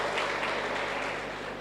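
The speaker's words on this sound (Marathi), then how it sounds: "त्या कोविड योद्ध्यांसाठी एकदा टाळ्या वाजवा" A rally crowd claps for Covid warriors, a dense, sustained wash of applause that holds steady and fades slightly near the end.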